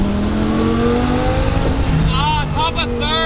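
A twin-turbo V10 go-kart accelerates hard through its gears with rising engine pitch and a brief tyre squeal from wheelspin, loud and close, ending with a sharp upshift and renewed climb.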